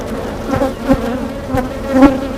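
A honeybee swarm buzzing loudly inside a swarm trap, a dense steady drone with pulsing swells as bees move close by.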